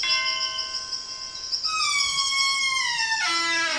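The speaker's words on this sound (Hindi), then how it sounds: "चलो घंटी बजाए।" A cartoon doorbell chimes in a kids' animated puzzle game, a bright multi-tone ding sequence with stepped falling notes ringing out cleanly over about four seconds, with no voices.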